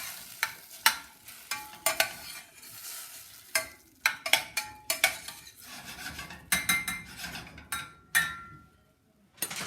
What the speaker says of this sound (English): we're just going to stir up our garlic in here